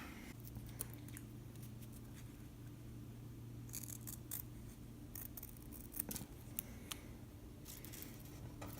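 Scissors snipping through an old splice on 8-track cartridge tape, a few close, crisp cuts spread over a steady low hum with faint handling noise.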